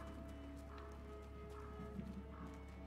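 Horse hooves in the Fractured Minds video game, soft clip-clopping with a brief whinny-like note under a steady hum of game music, quiet and continuous.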